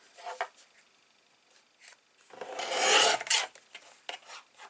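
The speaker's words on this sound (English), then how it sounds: "So, let's get my trimmer out." A paper trimmer slices through cardstock while making a mini album, giving one loud rasping cut of about a second in the middle, with softer scraping and handling noises before and after.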